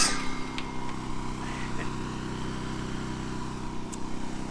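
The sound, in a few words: generator running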